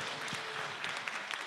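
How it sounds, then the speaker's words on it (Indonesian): Faint, distant applause, a soft patter of many hands clapping over room noise. "Tepuk tangan dong."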